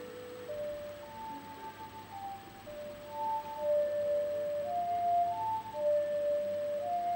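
An ocarina melody from the Zelda game Majora's Mask, a slow whistle-like tune of sustained pure notes that step up and down over soft game ambience, moderately loud with no talk.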